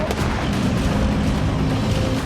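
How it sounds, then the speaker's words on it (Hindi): Israeli IDF tanks fire shells during a ground operation near the Syrian buffer zone, heard as a dense, continuous roar of booming gunfire and rumbling blasts, loud and sustained throughout with no talk. "आईडीएफ के सैनिकों ने ग्राउंड ऑपरेशन के जरिए टैंक से ऐसे बारूद बरसाए"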